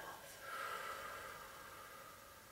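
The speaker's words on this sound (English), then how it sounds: "you might notice that I'm just starting to make a bit more noise with my breath" Deep breathing: a long, audible exhale out through the mouth, soft and close, swelling then slowly fading with no talking.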